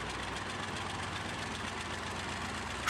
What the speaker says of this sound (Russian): Шум мотора